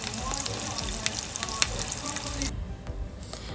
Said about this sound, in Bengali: এরপরে আমরা ডিমগুলোকে একটা ফ্রাইং প্যানে দিয়ে ভালো করে ফ্রাই করে নেব।